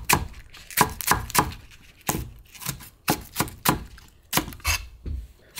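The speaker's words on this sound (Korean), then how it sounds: "대파 한 뿌리를 어서더서 썰어주세요" A knife chops green onion on a cutting board in about a dozen crisp, evenly spaced strikes, close and clear with no talking.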